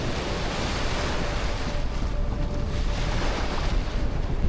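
Surf rolls onto a shallow beach on Langkawi island in Malaysia, heard as a loud, steady rush of water with wind buffeting the microphone and no talking.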